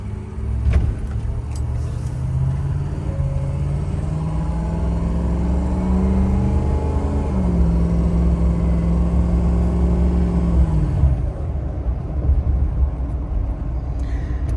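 A 2006 Ford F250 Powerstroke diesel pickup with about 101K miles drives along, its engine note rising and shifting through gears in a steady, close rumble before settling lower near the end.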